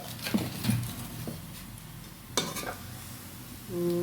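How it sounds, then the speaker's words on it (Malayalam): Chicken curry is stirred in a pan with soft scraping and clinks of the spoon over a faint sizzle, close by, with a sharper knock partway through. "നല്ലപോലെ വഴറ്റുക അല്ല എല്ലാം കൂടെ ഒന്നിച്ച് ഇളക്കി യോജിപ്പിച്ചിട്ട് അടച്ചു വെക്കണം"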